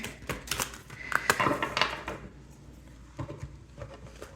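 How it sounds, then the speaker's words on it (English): A deck of cards is mixed by hand in a quiet room, giving a burst of crisp riffling and slapping clicks for about two seconds, then a few softer taps, close and alone. "Just gonna mix these cards here"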